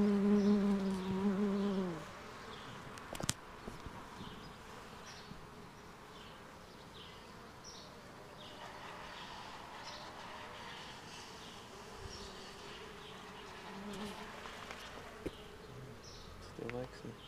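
Honeybees hum at a freshly refilled feeder on a homestead, a steady close buzz with individual insects drifting past, after a brief low tonal hum at the start; no talking.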